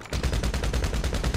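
A fast, steady burst of automatic gunfire in a video game, loud, close, with evenly spaced shots running nonstop.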